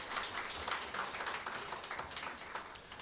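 A room of officials claps in congratulation at an award presentation during a Jongno District Office staff meeting. The applause is soft and distant, a steady patter of many hands lasting a few seconds.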